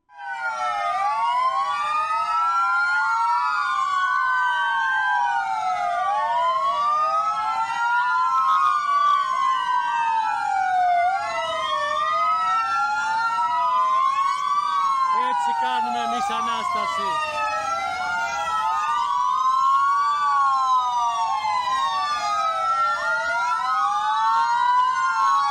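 Several fire engine sirens wail loudly and continuously together, overlapping as they rise and fall, sounded by firefighters at Easter Resurrection in Chalkida, Greece, with brief voices partway through.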